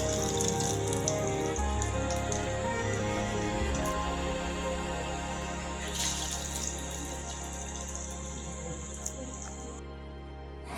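Flattened balls of toor dal vada batter with curry leaves drop into hot oil, a steady bubbling sizzle with a few sharp crackles that slowly fades toward a quieter end.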